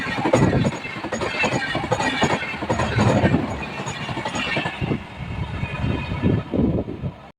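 An express train rumbles loudly through Serampore station, a continuous heavy roar of wheels and carriages passing close by.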